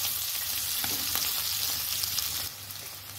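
Potatoes with turmeric frying in hot oil, a dense, hissing sizzle that stays loud and unbroken throughout, close up, easing slightly near the end.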